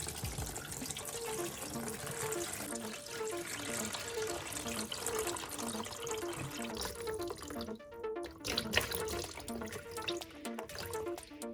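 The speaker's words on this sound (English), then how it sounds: "Let's drain all the old electrolyte" Old electrolyte drained from a car battery, a steady close trickle and splash of liquid pouring out continuously for several seconds.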